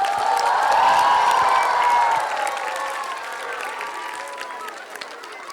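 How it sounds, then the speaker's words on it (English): A crowd applauds at a school annual concert, clapping and cheering in a loud, dense wash that slowly fades. A voice speaks over it at first. "let's have a big round of applause for them"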